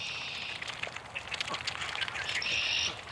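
Geese flying over and landing in a swamp, faint honking and calling with light splashy movement in a quiet outdoor setting.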